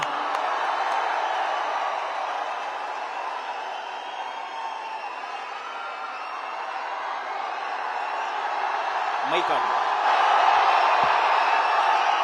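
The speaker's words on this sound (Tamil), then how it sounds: "கல்லூரி கேம்பஸுக்கு ஒரு பெரிய அரங்கம் நிறைந்த கைத்தட்டல கொடுத்துடலாமா?" A full college auditorium crowd applauds and cheers at length, a broad steady wash of clapping and voices that swells slightly toward the end.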